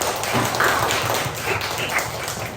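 A group clapping together in a classroom lesson, a steady, close, fairly loud patter of many hands that holds throughout without talk.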